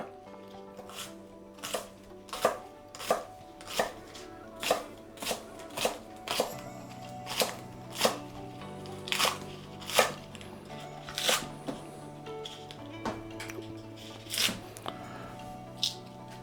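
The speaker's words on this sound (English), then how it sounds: "you can cut them at an angle if you like, or cut them into even pieces" A knife chops vegetables on a cutting board while chow mein is being prepped, steady evenly spaced thuds about once per second, close and crisp, with a faint background hum.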